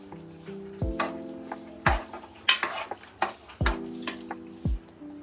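Pasta being stirred into creamy white sauce in a pan, with a series of sharp metallic clinks and scrapes of a utensil against the pan, about eight knocks in an irregular rhythm over a quiet background, no talking.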